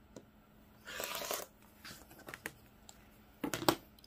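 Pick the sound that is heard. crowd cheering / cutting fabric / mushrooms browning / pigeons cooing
cutting fabric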